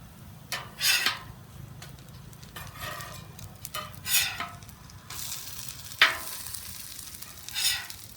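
Salvadoran pupusas cook on a Camp Chef Pro 90X flat top griddle outdoors, with a soft, steady sizzle under occasional louder spatter bursts and light scraping clicks, and no talk.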